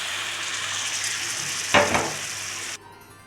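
Boiled dal drops into a pan of sizzling oil in the middle of a dal stir fry. A steady hiss is broken by a sudden wet splash and burst of crackle, then everything stops abruptly.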